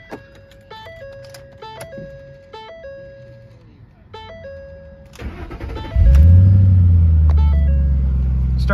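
A 2010 Ford Mustang GT V8 cranks and fires up, settling into a loud, deep, steady idle rumble close by, preceded by a series of electronic chimes.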